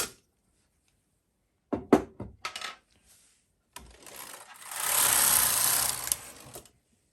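Clatter of weights and a rib sample being taken off a double-bed knitting machine: a few sharp knocks and rattles, a pause, then a longer sliding metallic rush that fades out, close and alone with no talking.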